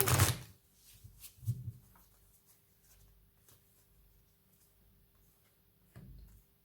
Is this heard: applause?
no